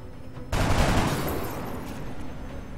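A rookie soldier fires a single gunshot in the strategy game XCOM: Long War, a sharp loud crack followed by a rumbling decay that fades over about two seconds.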